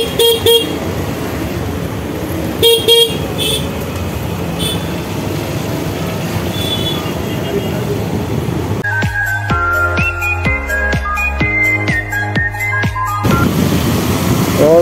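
Busy Sunday road traffic in Bandra, Mumbai, with a steady wash of engines and tyres, a couple of short car-horn toots early on, then a long, loud stretch of repeated honking from several vehicles, with a voice talking now and then.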